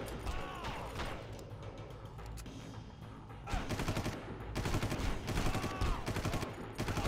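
Gunfire in the video game Far Cry, rapid automatic bursts and scattered shots over a steady game background, moderately loud and continuing throughout with no talk.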